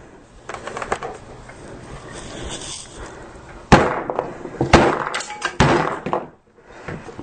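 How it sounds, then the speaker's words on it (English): A hammer hits an HTC One M8 phone display with sharp, loud cracks and clatters, several irregular blows struck close by. "I'm smashing this thing really hard, and this is not breaking"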